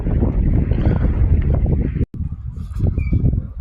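Wind buffets the microphone on a windy ocean, heavy low rumbling gusts in steady bursts, cutting out for an instant before continuing.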